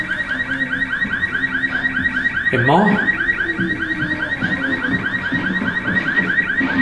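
Alarm blaring in Resident Evil 6: a loud, fast-repeating warbling electronic tone that cycles steadily throughout, with a brief voice and a short swooping sound partway through.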